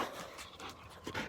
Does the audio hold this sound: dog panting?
yes